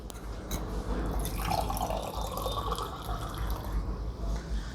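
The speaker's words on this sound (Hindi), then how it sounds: "चलिए 1 मिनट पानी पी ले जरा।" Water is poured and sipped with splashing, trickling and dripping sounds that are close and fairly loud, with no talking.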